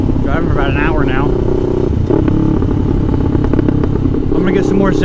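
A motorcycle fitted with an S&S slip-on exhaust, a 700 Sport, rumbles at a steady idle during a fuel stop, with a voice talking over the engine throughout.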